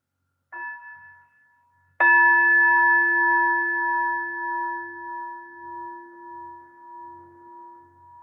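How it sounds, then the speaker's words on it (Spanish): A meditation bell is struck twice: a faint first tap, then a loud, clear ring whose bright tone lingers and slowly fades with a gentle wavering over several seconds, alone in quiet. "Voy a tocar la campana una vez más"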